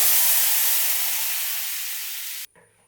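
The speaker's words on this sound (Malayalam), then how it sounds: "അടുത്തതായി ഉരുളൻകിഴങ്ങ് വേവിച്ചെടുത്ത വെള്ളം ഒഴിച്ചു കൊടുക്കുക" A loud, sudden hiss as potato cooking water hits a hot pan of potato curry, a sustained sizzle that slowly fades over a couple of seconds, then a faint clatter.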